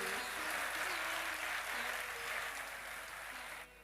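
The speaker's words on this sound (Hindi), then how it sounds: "तो जोरदार तालियां एक बार ठाकुर जी के लिए।" Dense, loud applause from a large audience at a Hindu religious discourse (Shrimad Bhagavat Katha) in Rewari, a continuous wash of clapping that tapers off just before the end.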